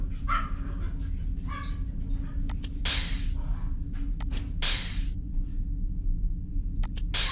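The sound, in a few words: dogs barking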